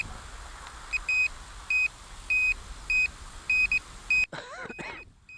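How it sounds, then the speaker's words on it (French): An SJRC F11 brushless drone on return-to-home gives a run of short electronic beeps in uneven pairs over a faint background hum, then a brief rustle at the end. "les bips se mêlent entre eux, c'est un peu bizarre"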